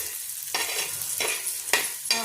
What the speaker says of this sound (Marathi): वाटाणा पण छान असं शिजत आहे कांद्यासोबत